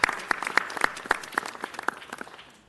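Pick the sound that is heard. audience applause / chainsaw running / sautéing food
audience applause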